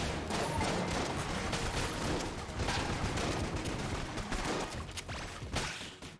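Dense rapid gunfire from the video game Enter the Gungeon, a continuous barrage of overlapping shots with scattered sharper bursts, loud and unbroken for several seconds.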